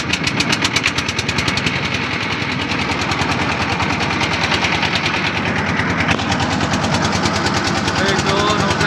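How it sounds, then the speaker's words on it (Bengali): A motor boat engine runs as the boat pulls away, a loud, close, rapid chugging pulse that stays steady and even throughout. "এই তো নৌকা ছেড়ে দিচ্ছে"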